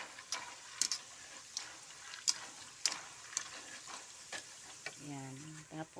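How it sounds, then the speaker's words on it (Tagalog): Peanuts are stirred in a pan at home, giving a series of soft, irregular scrapes and rattles at close range over a faint sizzle. A short burst of speech is heard near the end. "So niluto ko na yung mani, guys."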